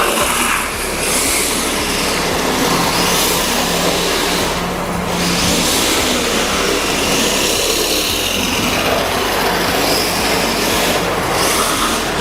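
An LP-86 RC drift car on a K-stadium track, running a lightweight 380 motor on a Li-Fe battery, accelerating with a loud, continuous high-pitched motor whine and tyre noise, steady and close with no talking.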